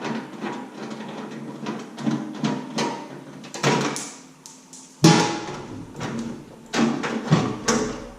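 A Breville microwave oven door is pulled loose and removed during a teardown, giving a run of scraping knocks and rattles, then a sharp, louder clunk partway through, followed by further clattering handling noise at close range.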